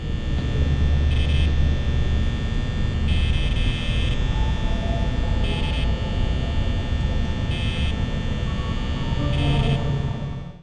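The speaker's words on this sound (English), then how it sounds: "The constant drone of the fan is just enough to distract the player from important audio cues." A fan in the Five Nights at Freddy's video game gives off a steady, unbroken mechanical drone with a low hum and a faint buzzing whine, with periodic brief high bursts layered over it.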